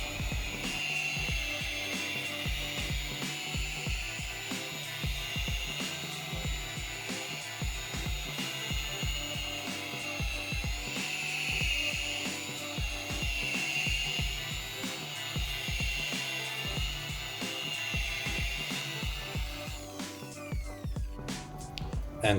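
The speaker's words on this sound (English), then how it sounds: "now it's time for the first pass with the polishing machine using Sonax Cut Pro" Rotary polishing machine running steadily with Sonax Cut Pro compound on the faded paint of an abandoned Smart Roadster, a continuous high whine with faint rattling texture that holds for about twenty seconds before stopping, no talk.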